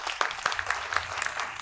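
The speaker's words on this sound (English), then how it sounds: "Round of applause for you." A small audience at a Brighton Festival 2021 performance claps steadily, a light scattered patter of hands at moderate distance with no voices over it.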